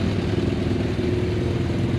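A group of idling motorcycles, including a Suzuki Katana, a Honda Monkey and a Grom clone, runs together in a dense, steady low rumble with no voices.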